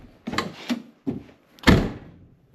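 A Mk1 Toyota Celica Supra door with new hinge pin bushings shuts several times, each a solid, close, low thunk separated by brief pauses.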